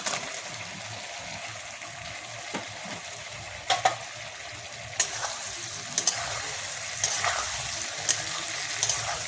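Chicken pieces go into a pan of frying tomatoes softened with salt, setting off a steady sizzle broken by occasional sharp clinks and stirring scrapes, close by with no talking.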